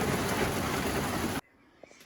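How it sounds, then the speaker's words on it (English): Heavy rain pours down hard outdoors at an old farmhouse during a thunderstorm, a dense loud wash that stops abruptly partway through, leaving near silence with a faint knock. "we have thunderstorms too"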